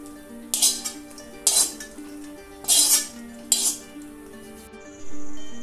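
A utensil scrapes and stirs moong dal being dry-roasted in a metal pan, four or five distinct scraping strokes with clinks against the pan, followed by a brief softer rustle.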